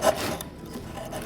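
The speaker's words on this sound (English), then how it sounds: "wrap it around here, and make a cylindrical sanding piece" Short rasping scrape of rough sandpaper wrapped around a stick, rubbing against a wooden sprocket; a close, steady grinding friction with a slightly stronger stroke at the start and no talking.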